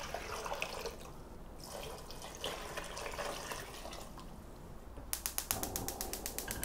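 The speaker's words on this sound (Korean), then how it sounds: "물을 부어주세요." Water is poured into a pot to make Korean soup stock with a green onion and dried kelp. It makes a quiet, steady trickle and splash, ending in a quick run of clicking ticks.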